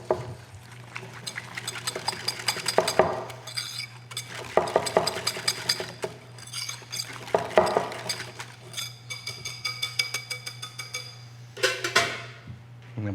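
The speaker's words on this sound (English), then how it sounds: "And then let's give it a stir and see where we got." A spoon stirs honey mustard dressing with chipotle powder in a glass or bowl, making repeated clinking and scraping strokes in bursts over a low steady hum, with no talking.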